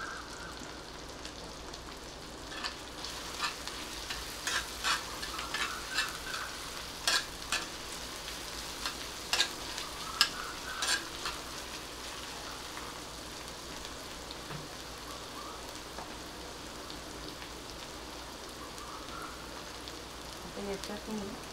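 Capsicum, tomato and onion frying in a pan for masala pav, a soft continuous sizzle with occasional light stirring taps, fairly faint and steady throughout.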